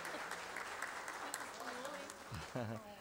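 Steady, dense applause fills a city council chamber in Recife during a solemn session, clapping continuing throughout, with a voice starting to speak near the end.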